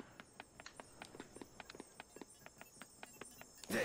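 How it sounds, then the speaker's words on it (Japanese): Rapid footsteps in the My Hero Academia Ultra Rumble video game, a quick even run of light crisp steps, close and clear, ending in a brief louder burst. "足音はリンさん"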